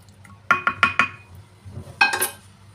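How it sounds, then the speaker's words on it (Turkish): A Borcam glass baking dish is handled on a kitchen counter while a spinach and noodle gratin is assembled, producing a quick run of four clinking knocks, then a pause and a brighter cluster of clinks, close and alone. "Borcamımı aldım"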